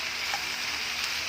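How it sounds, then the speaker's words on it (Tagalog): Cabbage sautés with mixed vegetables in a hot pan, giving a steady, close sizzling hiss that stays even throughout, with no voices. "At syempre, pwede na natin ilagay yung ating repolyo. Yan. Haluin lang natin yan."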